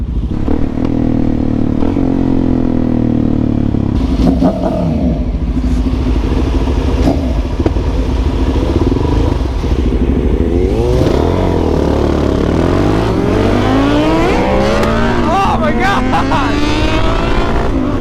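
Suzuki DRZ400 supermoto motorcycles accelerating hard off the line, loud and close, with engine notes climbing through repeated rising revs over constant roar and wind.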